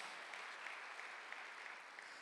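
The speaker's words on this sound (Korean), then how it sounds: "박수 한번 하세요." A church congregation claps during a Sunday worship service, a soft, steady patter of many hands that sounds fairly distant and stays even for a couple of seconds without speech.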